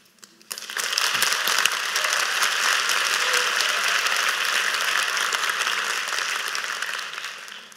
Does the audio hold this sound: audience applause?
yes